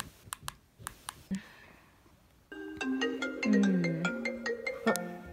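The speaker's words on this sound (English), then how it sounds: "I'm getting a call." A phone ringtone signals an incoming call: after a few faint clicks and taps, a bright melodic tone starts and keeps playing loudly and close for several seconds.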